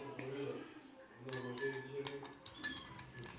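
A teaspoon stirs a glass of water, giving several sharp metallic clinks against the glass in quick bursts, with people talking nearby throughout.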